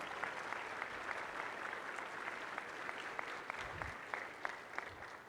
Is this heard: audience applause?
yes